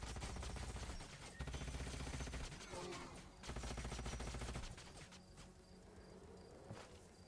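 Units in Age of Wonders: Planetfall fire weapons in a rapid, buzzing burst of repeated shots and energy bolts, fairly faint, with pauses and a thinner whine toward the end.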